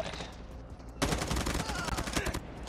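Rapid bursts of hip-fired automatic gunfire in Call of Duty Mobile rattle close and loud, starting after a quieter first second, with distant game sounds underneath.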